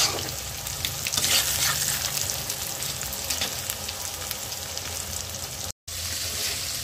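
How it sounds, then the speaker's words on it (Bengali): Pointed gourd and onions frying in a pan make a loud, continuous crackling sizzle close by, with a brief drop to silence near the end and no voices. "এখন পটল আর পেঁয়াজ ভেজে নিচ্ছি।"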